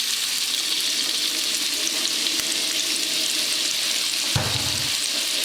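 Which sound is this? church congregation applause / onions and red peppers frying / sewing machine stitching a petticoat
onions and red peppers frying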